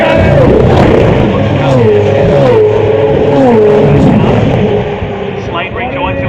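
A V8 Supercar rejoins the track with a loud, sustained engine roar that rises and falls through the gears, heard close with commentary talking over it.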